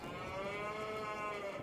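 A cow in Farming Simulator 22 lets out a single sustained, low moo, close and clear with no one talking.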